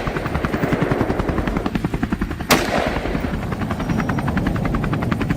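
Rapid gunfire during a wild hog hunt over California fields, a sharp loud shot cracking out midway over the constant heavy thump of a nearby helicopter rotor.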